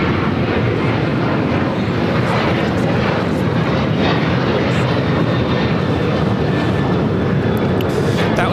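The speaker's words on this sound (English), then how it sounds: "United Airlines Flight 2013 heading to Seattle, 737-900ER is our next takeoff here on the south side" A United Airlines Boeing 737-900ER jet takes off at LAX bound for Seattle, its engines giving a loud, steady broadband roar that stays close and constant throughout.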